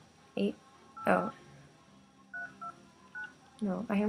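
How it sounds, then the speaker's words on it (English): A phone keypad gives several short dialing beeps in quick succession between bursts of a woman's speech, close and clear in a quiet room. "No, I almost just dialed my own phone number."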